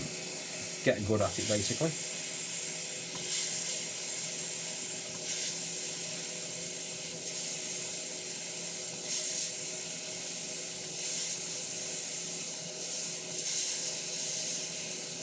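A hot air rework tool blows steadily across a Sega Mega Drive circuit board as molten solder spatters, producing a constant soft hiss with a brief rattle at the start and someone talking over it.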